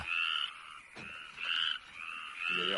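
Frogs croaking at night near a pond, a chorus of loud, repeated raspy calls coming in bursts about every half second or so, with no talking.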